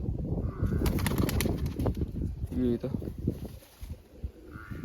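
A roller pigeon is let go and flaps its wings, a quick burst of fluttering close by with brief bird chirps, while someone talks over it.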